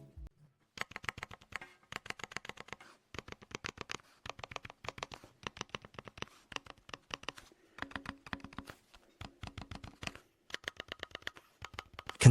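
Fast, uneven typing on a high-quality aluminum computer keyboard, close and crisp, with clusters of sharp key clacks and brief pauses between bursts, no voices.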